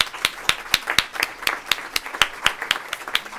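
Audience applause at an academic exchange seminar on disability, a small group clapping in an evenly spaced rhythm, crisp and fairly close, with a few voices faintly underneath.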